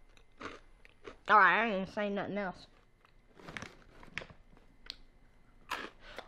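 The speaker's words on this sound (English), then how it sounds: "Would you stop chewing so loud?" Loud, close chewing with wet crunchy bites and smacks scattered through the second half, following a stretch where someone speaks clearly over quiet room tone.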